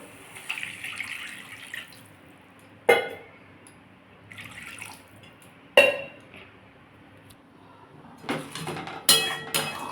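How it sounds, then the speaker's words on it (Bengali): Water poured into a frying pan of cooked masala for a Bengali parwal pakoda curry, several sudden splashing bursts with hissing between them over a low background, close by. "আমার এটা কষা হয়ে গেছে আমি এর মধ্যে জল ঢেলে দেবো"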